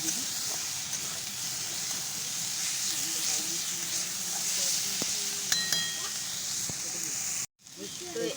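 Pointed gourd and chickpeas fry in a pan while being stirred, giving a steady, moderately loud sizzling hiss with occasional clicks of the spoon. A voice murmurs faintly underneath before a brief cut near the end.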